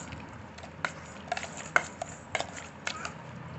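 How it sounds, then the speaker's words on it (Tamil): Vegetables for pav bhaji being mashed in a pan with a hand masher: a handful of soft, irregular taps and squelchy presses over a quiet background. "கொஞ்சம் கொஞ்சமாக போட்டு இந்த மாதிரி மேஷர் வச்சு"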